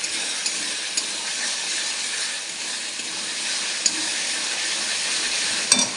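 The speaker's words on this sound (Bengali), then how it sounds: "এবার মশলাটা আবার নাড়িয়ে দিলাম" Spiced masala for a thin country chicken curry is stirred in a hot pan, giving a steady broadband sizzle and hiss with a few faint scraping ticks near the end and no talking.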